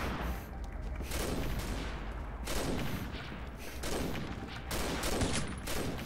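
Rapid gunfire from a shooter video game, with repeated loud bursts of shots following one another throughout, with no talking over them.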